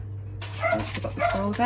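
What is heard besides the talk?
dog barking in the background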